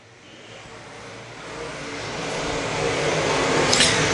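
Modified race cars on an oval track in a qualifying heat, a broad engine roar that swells steadily louder as the cars approach, heard from a distance without voices.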